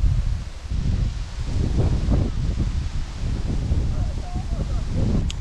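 Wind gusting through a forest, a continuous low rumbling rustle with wind buffeting the microphone, while a person talks over it.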